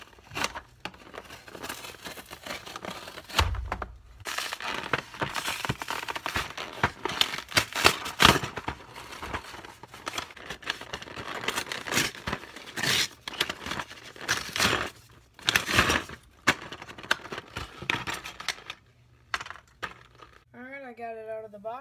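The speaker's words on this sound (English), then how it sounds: "So I'm gonna open this and do a review on it. We're gonna be using this big knife" A big knife cuts open the packaging of a 1/64-scale Dodge toy truck with trailer and bales, with close crinkling, scraping and tearing of cardboard and plastic in irregular bursts, and a voice speaking at times.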